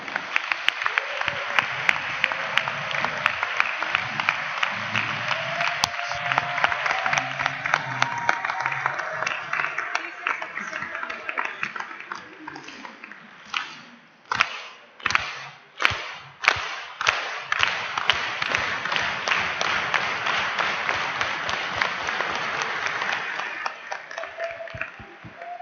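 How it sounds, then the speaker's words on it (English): A large crowd at a closing-session assembly applauds the incoming board as it is welcomed to the middle of the room. The clapping is loud and continuous, with a stretch of rhythmic, unison beats midway before it returns to dense, scattered clapping. "a big round of applause for them"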